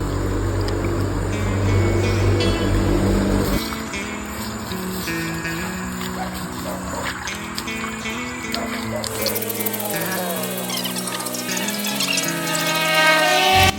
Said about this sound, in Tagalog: dito ko na binuksan ang lagusan ng tubig para malinisan ko na ang loob nitong ating mini pool